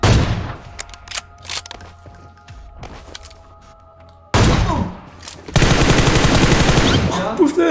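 PUBG Mobile gunfire comes as scattered sharp shots, then dense loud bursts of automatic fire in the last few seconds, with players talking faintly underneath.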